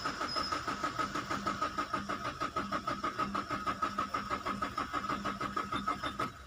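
Maruti Swift engine being cranked by its starter with a fuel pump fault and low fuel rail pressure: a fast, even chugging rhythm that keeps turning over without catching for several seconds, close and moderately loud.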